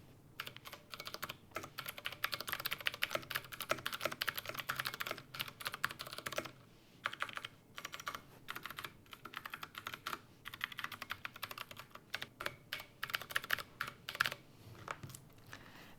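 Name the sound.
typing on a plastic keyboard with Cherry MX Blue switches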